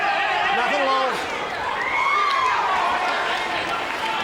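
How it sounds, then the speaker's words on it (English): Arena crowd at a Floyd Mayweather world title boxing fight, roaring and cheering steadily throughout at a dense, far-off level, with a few raised voices and whoops riding on top. "Hear the crowd and everybody cheering Floyd on here."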